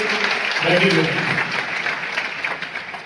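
Audience applause at a success-themed anniversary event, a steady wash of clapping that swells early and then holds, with a voice speaking over it near the start.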